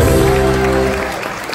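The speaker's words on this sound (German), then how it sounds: "Applaus!" Applause from a carnival audience welcoming a young Funkenmariechen, a dense, loud wash of clapping that fades slightly over a second and a half, with a held musical tone beneath it.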